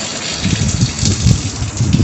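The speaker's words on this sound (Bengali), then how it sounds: "বুঝতে পারা যাচ্ছে এখনো বৃষ্টি পড়ছে" Rain falls steadily outside a house, a continuous close hiss with soft low pattering and no voices.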